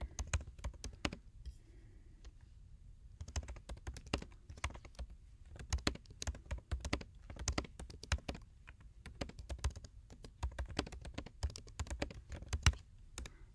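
Typing on a computer keyboard, a close, quiet stream of rapid key taps in irregular bursts with brief pauses.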